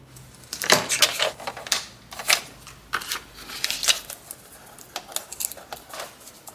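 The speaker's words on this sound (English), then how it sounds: "we could just take our scissors and snip again" Repeated crisp snips of scissors cutting decorative paper for a handmade travel journal, in irregular bursts of several quick cuts, close and fairly loud with no talking.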